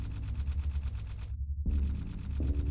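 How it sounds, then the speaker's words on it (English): Rapid bursts of heavy gunfire sound from far away, a low rumbling volley that breaks off briefly and then resumes in a dense stutter. "the sound of heavy gunfire erupted far away to the east"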